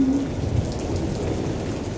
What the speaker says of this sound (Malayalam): മാളവത്തിൽ മഴ ഇരമ്പുന്നു